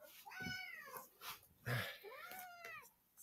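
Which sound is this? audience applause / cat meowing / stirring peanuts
cat meowing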